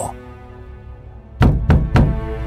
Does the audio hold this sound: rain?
no